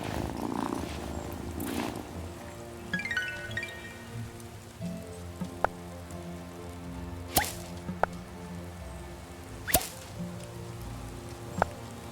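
A cat purrs softly in the video game Wylde Flowers, a low steady rumble under patter like falling rain, with a few sharp clicks and swishes breaking in.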